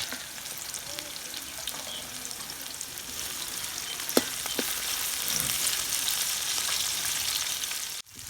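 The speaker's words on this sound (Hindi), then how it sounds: "अल्हम्दुलिल्लाह प्याज को हमने हल्का सा फ्राई कर लिया है।" Onions and sliced green chilli fry in a karahi, giving a steady, even sizzle with a few brief clinks of a utensil partway through and a quick knock near the end.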